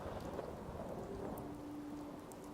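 Rain patters steadily with a low thunder rumble underneath in Fallout 4, faint and even throughout with no voices.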